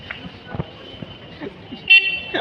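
A car horn sounds in a short toot near the end on a quiet night outing, after faint background noise and soft voices.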